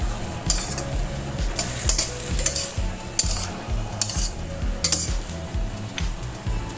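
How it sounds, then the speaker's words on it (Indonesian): Okra and chillies stir-fried in a pan sizzle steadily while a utensil scrapes and taps the metal in a regular rhythm, loud and close, with no talking. "Okra kalau dimasak seperti ini ya"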